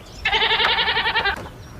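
A goat gives one close, loud bleat lasting about a second, with a wavering, quavering tone, set against quiet surroundings.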